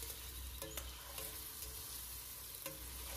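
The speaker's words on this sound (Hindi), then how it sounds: "जैसे ही ये लाइट ब्राउन होंगे, इसमें से कुछ हमने प्याज निकाल लिया है जो गार्निशिंग के लिए यूज़ करना है" Onions frying until light brown for a beef pulao, a dense steady sizzle with a few sharp spoon taps against the pan, quiet and uninterrupted by talk.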